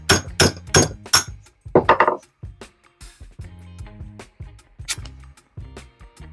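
A hammer punches a drainage hole in the bottom of a coconut-shell plant pot: several sharp, close knocks in quick bursts, then scattered lighter taps with pauses between them.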